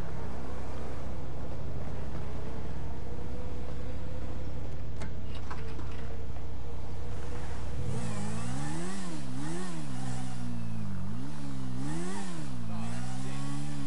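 In GTA V, a motorcycle idles with a low steady drone, then revs repeatedly in sharp rising and falling bursts, loud and close.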